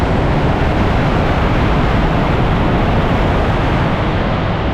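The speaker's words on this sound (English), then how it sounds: "There's a train coming through behind this one." A train passing close behind a stationary train at a Chinese station, heard as a loud, dense, unbroken roar with steady rumble throughout and no voices.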